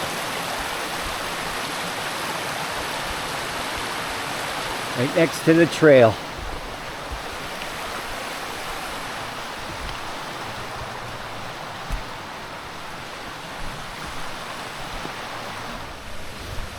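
A mountain stream cascades down rocks right beside a hiking trail on the Appalachian Trail's Mahoosuc Notch, a steady close rushing wash that continues throughout while someone speaks briefly.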